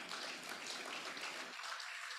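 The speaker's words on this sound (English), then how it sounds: "would like to give them a really big round of applause" A conference audience applauds its sponsors and exhibitors at the opening session of an annual directors conference. The clapping is steady, dense and fairly faint, heard on its own without speech.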